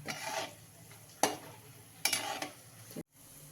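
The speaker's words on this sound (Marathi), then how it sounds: "आपण हे तळून घेऊया आता छान असं मंदाचेवर" Khoya gulab jamun frying over a low flame, a soft bubbling sizzle broken by a few sharp stirring scrapes and clinks before a brief cutoff.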